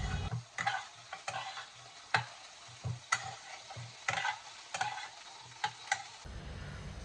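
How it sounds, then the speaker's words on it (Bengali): Boiled banana stem is sautéed in a pan with tomato and Gobindobhog rice, a soft background sizzle broken by frequent uneven scrapes and knocks of a spatula stirring, close and clear. "এবার আমি সেদ্ধ করে রাখা থোড়টাকে দিয়ে দিলাম, দিয়ে এবার আবার এটাকে সুন্দর করে ভালো করে কষিয়ে নেব।"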